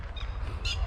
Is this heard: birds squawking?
yes